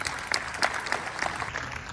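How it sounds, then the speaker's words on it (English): Applause from a rally crowd gathered for Cornel West, a fairly steady patter of many hands clapping at moderate distance, with faint voices mixed in, for about two seconds. "Give a round of applause for yourselves for being here"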